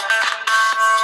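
A Nomu S20 smartphone plays its ringtone through its small speaker at full volume, loud, bright, close electronic tones in short repeating bursts.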